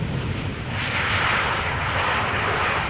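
An airliner arriving from Hamburg lands at Schiphol in gusty crosswinds, its engines giving a close, loud, rushing roar that brightens and intensifies partway through the brief stretch.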